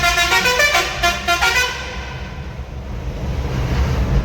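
Riding on a bus through Ahmedabad traffic, with a loud vehicle horn blaring in repeated bursts close by over the first half, then a steady low rumble of the moving bus and road noise.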